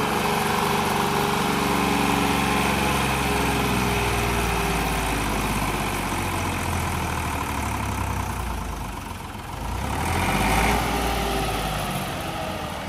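Massey Ferguson MF260 tractor engine labouring up a climb in third gear on underinflated tyres, a loud, steady diesel drone that holds throughout, dipping briefly near the end before surging back.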